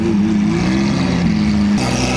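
A loud, throaty engine with an aftermarket exhaust rumbles steadily at close range, its deep tone holding and shifting slightly as the sports car idles and rolls past.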